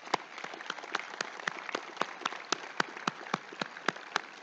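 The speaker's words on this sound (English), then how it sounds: "So let's applaud." Scattered clapping at a 2021 Wellsville school graduation ceremony, a few distinct hand claps repeating in a regular, slightly uneven beat, moderately close and fairly thin rather than a full roaring crowd.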